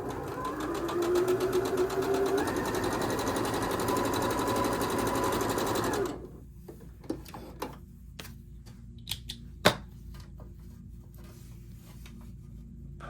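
Sewing machine stitching a seam on quilt fabric, a steady close mechanical whir for about six seconds that then stops, followed by quiet handling with scattered small clicks and one sharper tap.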